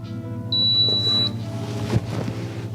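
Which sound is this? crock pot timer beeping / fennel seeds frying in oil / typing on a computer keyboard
crock pot timer beeping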